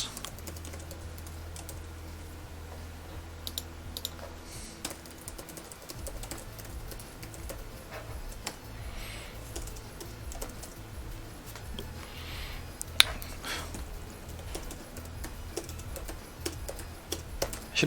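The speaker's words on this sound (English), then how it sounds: "Should probably look at the keyboard when I type." Someone types steadily on a computer keyboard while coding a Frogger game, a continuous close patter of key clicks with a few louder strikes over a faint low hum.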